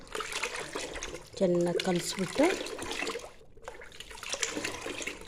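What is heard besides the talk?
water poured into a bucket for fertilizer mix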